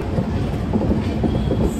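A passenger train rolling out of Vijayawada toward Tirupati, heard from inside as a loud, steady low rumble with rhythmic clacking of wheels on rails and no voices.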